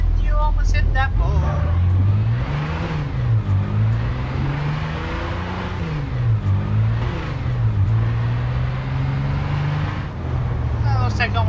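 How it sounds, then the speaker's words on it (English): Vehicle engine in a Garry's Mod tornado map, a loud, continuous droning motor whose pitch rises and falls repeatedly as it revs and slows, with a voice talking over it. "Now this vehicle's making noises."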